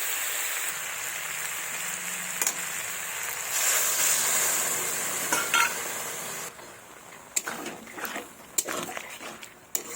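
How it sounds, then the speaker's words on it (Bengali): Water is poured into a hot cooking pot of bottle gourd sour curry made with jujube fruit, giving a steady close rushing hiss for about six seconds that gives way to scattered clinks and stirring. "এবার দেব জল।"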